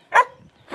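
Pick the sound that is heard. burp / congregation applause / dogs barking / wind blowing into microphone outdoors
dogs barking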